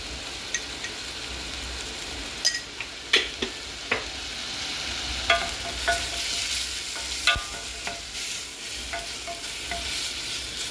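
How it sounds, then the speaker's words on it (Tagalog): Tomatoes with black pepper, turmeric and cumin fry in a pan while a spoon stirs them: a constant sizzle with irregular clacks and scrapes of the utensil against the pan, close up. "mekos-mekos ulit hanggang sa maluto yung kamatis"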